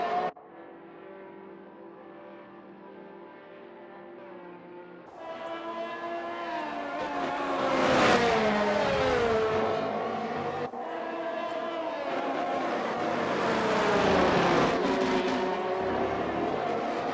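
Formula 1 cars in a racing video game, including a Ferrari with minor wing damage after losing control, at the United States Grand Prix; engine tones rise and fall steadily throughout, louder from about five seconds on, with passing pitch sweeps.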